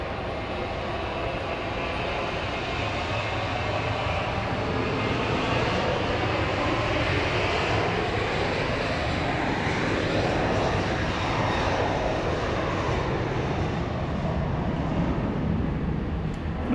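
A passenger airliner passing at Dallas Love Field, a loud, sustained engine roar that swells and then fades as it goes by, heard continuously with no voices.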